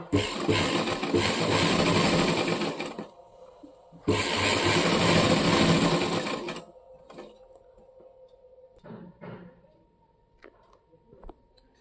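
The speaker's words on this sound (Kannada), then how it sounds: "ಈಗ ಉಲ್ಟಾ ತಿರುಗಿಸ್ಕೊಂಡು ಮತ್ತೆ ಇನ್ನೊಂದು ಸ್ಟಿಚ್ ಹಾಕಬೇಕು." A sewing machine runs two long bursts of stitching along a trouser seam for a double stitch, loud and steady, with a pause between, then quieter handling clicks and rustles of the fabric.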